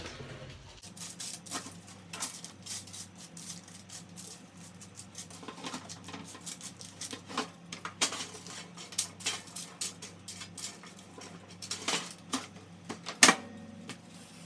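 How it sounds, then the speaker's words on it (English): A wooden spoon or spatula scrapes and taps against a roasting pan while stirring broccoflower and chickpeas, a quiet, uneven patter of clicks and scrapes with one sharper knock near the end. "take your wooden spoon or your spatula and stir everything around"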